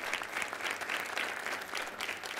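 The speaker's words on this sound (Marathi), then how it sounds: "जोरदार टाळ्या त्यांच्यासाठी झाल्या पाहिजे." An audience applauding for Nikam saheb at a comedy show, dense steady clapping from a large crowd throughout, fairly even in level.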